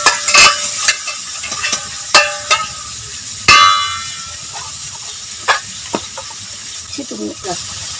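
About 200 grams of shrimp frying in a pan, a loud close hiss and sizzle with sharp crackles and stirring knocks at intervals, easing to a quieter steady fry.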